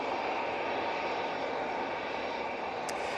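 An EasyJet airliner on approach to Manchester Airport gives a steady, broad engine roar that holds evenly throughout, with no voices.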